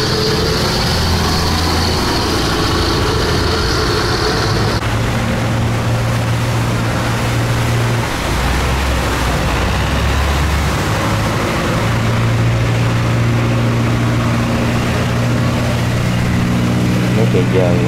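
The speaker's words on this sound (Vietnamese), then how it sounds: "Ghe và xà lan đang chuẩn bị vượt cống ở khu vực này nha." Boat and barge engines drone steadily as vessels pass through a dam sluice gate on a Vietnamese waterway, one a boat loaded with coconuts, with a low continuous rumble and water noise throughout and a voice speaking over it.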